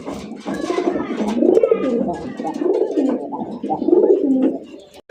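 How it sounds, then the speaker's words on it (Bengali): Rasgolla-coloured pigeons coo in soft, throaty, rolling phrases, several overlapping calls close by in a steady run that stops suddenly at the end. "কত সুন্দর এক কালারিং রাসগোল্লা কবুতর পাইতেছেন"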